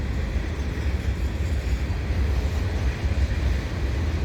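A CSX freight train rolls westbound past Marshall Avenue on CN tracks, a steady, loud low-pitched rumble of wheels and cars running continuously and close by, with no talking.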